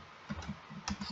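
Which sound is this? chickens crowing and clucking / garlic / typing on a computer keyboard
typing on a computer keyboard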